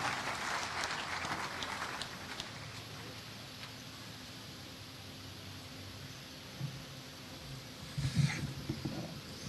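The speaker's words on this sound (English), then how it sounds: "A round of applause for the Governor of Kilifi" An audience applauds the Governor of Kilifi at a formal public event in Kenya, with steady, moderately distant clapping across the whole stretch and a brief louder flurry near the end.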